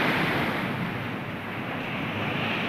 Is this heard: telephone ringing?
no